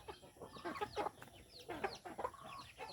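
Native chickens clucking at feeding time in the mountains, several short close clucks and soft murmuring calls in an irregular scatter over a few seconds, with no talking.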